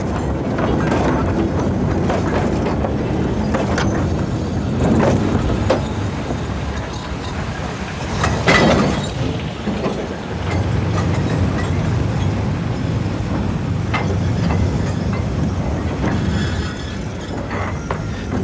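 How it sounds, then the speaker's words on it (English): Colliery railway wagons on the Westoe line roll down a gradient, a steady loud rumble with clanking and clickety-clack wheel beats throughout, close by and continuous. "Wagons roll back down the gradient to await their return to Westoe."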